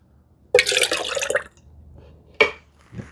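Shellac finish poured from a container into another in a woodworking shop, a close liquid splash lasting about a second, then a second short pour and a faint trailing drip.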